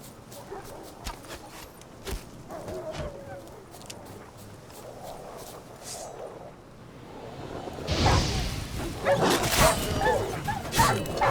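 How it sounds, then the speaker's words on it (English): A pack of stray mutts in The Witcher 3 video game barks and whimpers in scattered bursts, rising into a louder, denser flurry of barks and swishes near the end. "So these stray mutts form packs."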